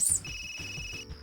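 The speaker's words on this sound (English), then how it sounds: "suddenly my ringtone echoes out in this empty place" A phone ringtone in the fighting game Persona 4 Arena Ultimax: two steady electronic tones sound over a soft, pulsing game backdrop, closely miked and moderately loud for just over a second with no talking.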